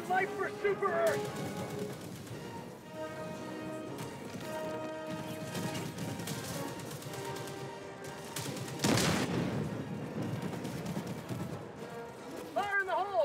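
Video game gunfire from a Helldivers-style co-op match rattles in bursts behind music and a busy mix, with a denser crash of shots near the end while players talk over it.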